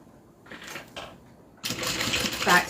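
A sewing machine stitches back over a seam on a leather satchel, first in short bursts, then in a steady, loud, rapid whir of running stitches, with no talk.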